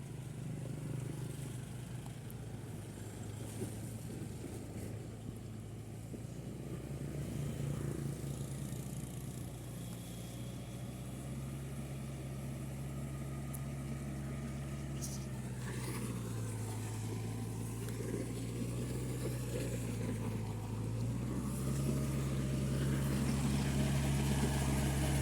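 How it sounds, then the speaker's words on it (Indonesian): A rice field plowing machine's engine runs steadily, a loud continuous drone with strong low-pitched harmonics that shift slightly in pitch midway, heard alone with no talk. "ada mesin pembajak sawah."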